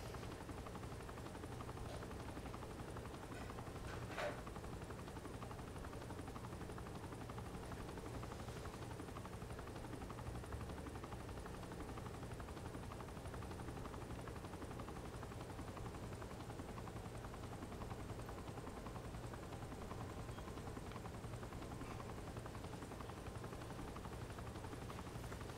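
A steady, low helicopter drone from Saints Row: The Third rumbles without a break for the whole stretch, faint and constant, with no talking over it.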